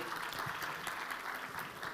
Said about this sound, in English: give His Excellency a warm round of applause yet again